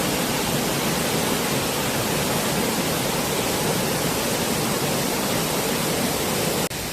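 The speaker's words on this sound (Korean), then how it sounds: "계곡물 수량이 많으니까 주변 전체가 아름답게 보이네요." Rushing water of a full mountain valley stream near Cheonmun Falls below Buramsan in Seoul pours out as a loud, steady broadband roar, constant throughout with no voices.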